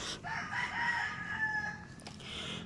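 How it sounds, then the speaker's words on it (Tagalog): Rooster crowing on a farm with chickens, one long drawn-out crow fairly close, followed by a brief cluck and quieter farmyard background. "aniya ang ilang mga manok"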